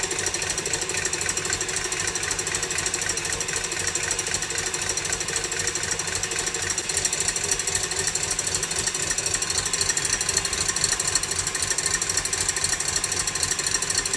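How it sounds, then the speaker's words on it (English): A loud, buzzing mechanical whir runs without pause as eggs are beaten until frothy for chili cheese bread, an even, close drone with no voices. "beat the hell out them eggs"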